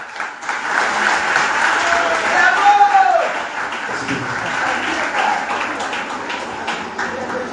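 An audience at a slam poetry competition final breaks into sustained applause and cheering, a steady wash of clapping throughout with voices calling out over it.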